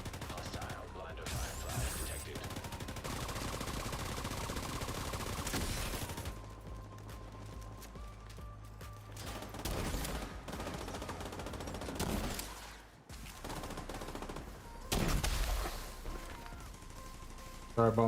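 Gunfire in the video game Tom Clancy's The Division 2: dense, overlapping bursts of shooting and rattling fire run almost continuously, mixed with other loud combat noise and occasional sharper blasts.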